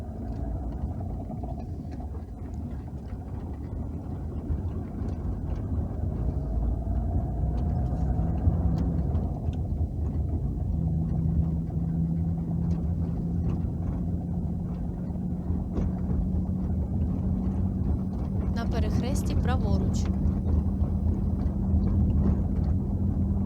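A car engine hums steadily along a driving test route, a low rumbling drone that rises slightly in pitch as it pulls away in first gear, with a brief higher whine near the end.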